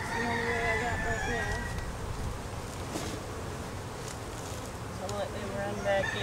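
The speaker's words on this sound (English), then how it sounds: "I just put it out back and the bees all free feed on that." Honeybees buzz outdoors around honeycomb left out back for them to free-feed on, a dense, steady swarm hum that fills the whole stretch at close range without letting up.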